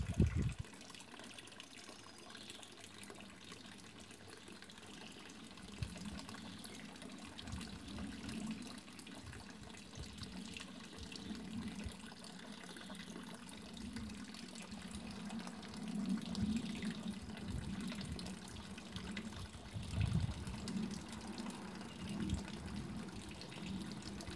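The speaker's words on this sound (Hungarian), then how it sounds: "itt folyik a víz" Water runs continuously from a tap at low volume, a soft steady gush with occasional splashes and faint background noise.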